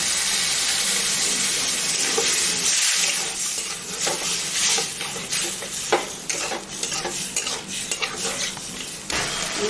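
Water poured into a pan of frying ginger, dried red chili and garlic masala sets off a steady loud sizzle, with spoon-stirring scrapes and clinks of metal against the pan throughout.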